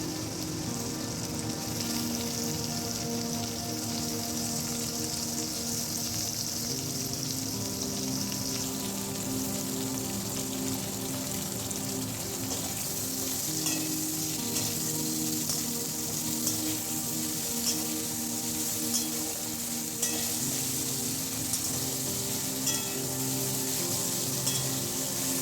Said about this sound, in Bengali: ওতে আলু ও কুমড়ো নুন দিয়ে ভেজে নেব।